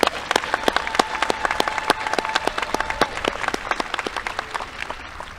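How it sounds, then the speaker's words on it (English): An audience applauds at a junior high school graduation ceremony in 2023, steady clapping from many hands filling a hall, close and fairly loud, with no talk over it. "Please join me in giving another round of applause to our American Legion Award recipients."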